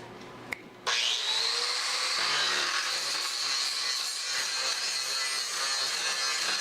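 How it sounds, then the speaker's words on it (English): Angle grinder smoothing cut steel on a bumper for a 2001 Chevy 2500HD, spinning up after a brief click and then holding a loud, steady high-pitched whine with grinding rasp for several seconds, no talk. "Put it over it quick with grinder"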